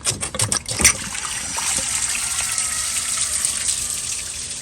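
Water gushes from the open bottom hose of a Chevy Suburban radiator, a steady, close rushing and trickling flow that runs on without pause after a few brief knocks at the start.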